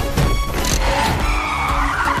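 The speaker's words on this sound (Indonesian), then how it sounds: "dengan skill driftingnya dia mengecoh satu mobil" Car tires skidding and squealing as a car drifts through a residential area during a film chase, a loud sustained screech with engine roar, close and continuous.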